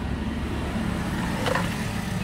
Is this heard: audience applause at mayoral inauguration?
no